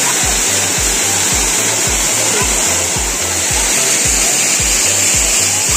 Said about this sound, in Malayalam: എങ്ങനെയുണ്ട് വെള്ളച്ചാട്ടം,